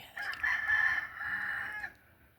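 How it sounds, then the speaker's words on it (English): Rooster crowing outdoors among wild ducks, one sustained, fairly loud crow held for about two seconds, with no talking. "Okay, let's see if he'll crow."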